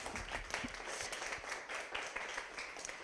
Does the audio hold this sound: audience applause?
yes